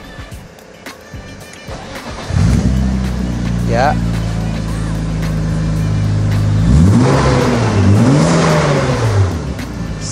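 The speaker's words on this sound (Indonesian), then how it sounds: "buat kalian yang kepo suara 2800 BM seperti apa, gue nyalain buat kalian" A BMW E36 323i with an Earth Twin Muffler exhaust starts up and settles into a steady, deep idle, then revs up and down in two rising and falling swells. A short spoken word comes before the engine catches.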